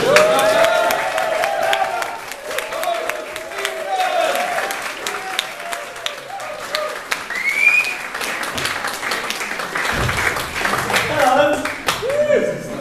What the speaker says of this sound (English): Thank you for clapping.